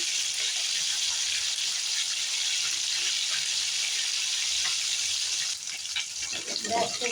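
Cumin seeds and green chillies fry in hot oil with a steady, loud, close sizzling hiss that goes on for several seconds, then briefly drops and breaks up near the end.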